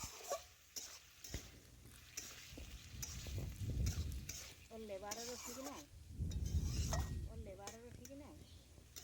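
Cauliflower and potato fry with spices in a pan, a soft sizzle and stirring scrapes heard close up while a person talks over them.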